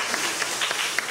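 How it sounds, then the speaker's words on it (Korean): A brief burst of scattered applause from a congregation during a Korean Sunday church service, a soft, dense patter of clapping with a few sharper claps standing out. "우리 박수 한번 드리겠습니다"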